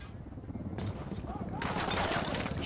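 Sniper gunfire rings out in the video game Ghost Recon Wildlands, sharp cracking shots with a burst of rapid fire, loud and close, mixed with a voice speaking.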